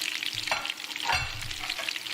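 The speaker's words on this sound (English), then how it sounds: "They're just fried. they're sizzling." Meatballs fry in a pan with a steady, close crackling sizzle and a couple of brief stirring scrapes, without talk.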